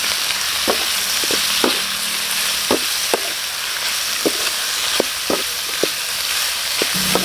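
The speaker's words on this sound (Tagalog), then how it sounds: "Lagay na natin yung ating lamang loob. Igisa na tayo." Beef innards sautéing in a pan for guisado, a steady broad sizzle running throughout with repeated sharp clinks and scrapes of a utensil stirring against the pan, close and fairly loud, no voices.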